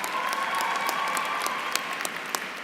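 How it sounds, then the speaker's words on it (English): A crowd in a convention hall applauds at a Spelman College commencement, with dense, steady clapping that holds at full volume from start to finish. "please give them a big round of applause"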